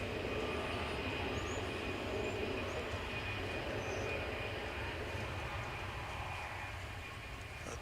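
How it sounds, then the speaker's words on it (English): An American Airlines Boeing 777 arriving at Dallas Fort Worth airport, a steady distant jet roar with a faint high whine, easing slightly toward the end, with no talk. "Beautiful 777. American Airlines, passing under some clouds as it arrives."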